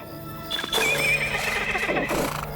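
A horse in the video game Lord of the Rings Online whinnies loudly with a rising, wavering call, accompanied by soft hoof clatter and background game ambience.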